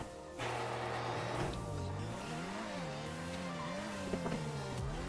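Pegassi Krieger supercar in GTA Online, its engine droning steadily and revving up and down in smooth, wavering pitch sweeps, close and continuous for several seconds with no talk.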